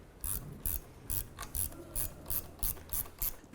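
A ratchet tightens the nut on a 2008-2012 Honda Accord strut mount, clicking in an even run of about eight loud, rasping strokes, close up and alone.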